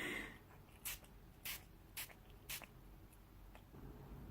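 Four quick, evenly spaced bursts of a Herbivore Hibiscus Rose Coconut Water spray bottle misting, each a short hissy puff, close by and fairly soft over quiet background noise.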